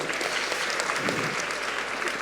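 Audience applause at a Tamil film cast event with students, dense continuous clapping from a crowd, loud and even throughout.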